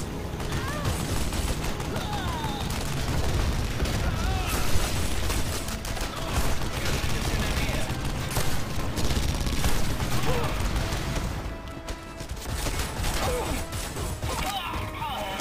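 Weapon fire in Red Faction Guerrilla, an inaccurate spraying gun, with dense continuous bursts and crashes filling the whole stretch, loud and busy, mixed with game effects.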